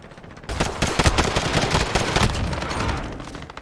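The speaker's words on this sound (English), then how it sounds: "The shotgun." Shotgun gunfire in Call of Duty Modern Warfare, a dense, loud barrage of overlapping blasts and battle noise that kicks in after a brief quiet lead-in and continues steadily without pause.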